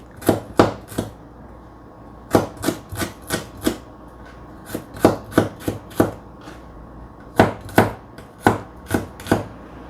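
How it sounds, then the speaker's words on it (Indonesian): A knife chops boiled bitter melon into small pieces on a cutting board, crisp distinct thwacks in quick clusters of three to five with short pauses between, close and clear with no talking. "Ini kita potong jadi 2 rasa cilik-cilik"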